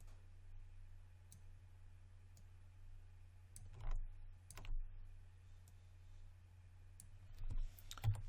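Sparse, quiet clicks of a keyboard and mouse come in small clusters over a low steady electrical hum.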